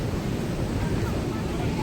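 Rough sea waves at Harihareshwar roar as a steady, loud wash of surf and wind noise with no clear breaks.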